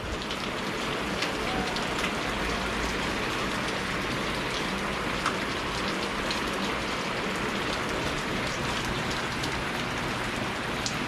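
Rain pours down outdoors in the countryside, a constant close hiss and patter of drops on surfaces with a few sharper taps, steady throughout and with no talking.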